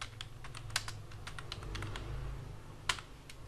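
Typing on a computer keyboard: quick, close, irregular clicking keystrokes with a couple of louder taps, played alone over a low background hum.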